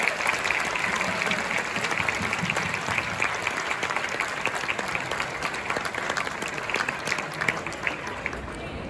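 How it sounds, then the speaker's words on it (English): An audience at a TIFF 2023 screening of Next Goal Wins gives sustained, thick applause that stays strong for the whole stretch, with faint voices mixed into the crowd noise. "A huge round of applause for this."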